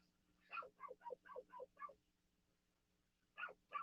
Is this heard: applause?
no